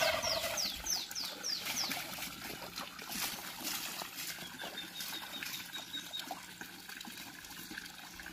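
A duck held before slaughter gives squawking, gobbling calls and flaps its wings, loud and close at the start, then fainter with rustling and handling noise.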